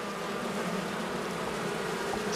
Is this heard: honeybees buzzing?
yes